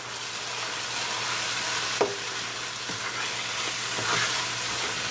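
Coriander, cumin and turmeric powders being stirred into a hot tadka, a steady close sizzle with a few scraping stirs and a sharp clink partway through, no voices.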